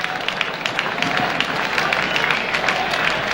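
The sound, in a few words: baseball fans clapping for a strikeout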